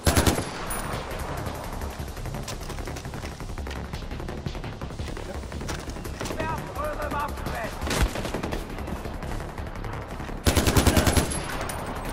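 Automatic weapon fire sprays in Far Cry 4, with loud bursts at the start and end and scattered shots in between, while someone talks over the action.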